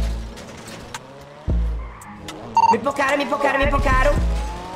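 A car engine revs and tires screech as a car passes at a rave in a roleplay game, a busy mix with a voice speaking briefly over it.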